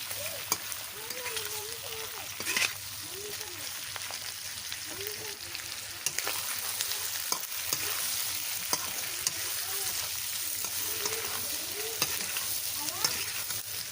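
Chicken liver fries in a pan with a constant soft sizzle, while a spoon scrapes and stirs in irregular strokes and sharp taps against the metal; a voice murmurs faintly beneath.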